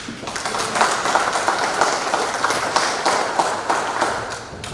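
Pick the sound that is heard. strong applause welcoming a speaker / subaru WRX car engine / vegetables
strong applause welcoming a speaker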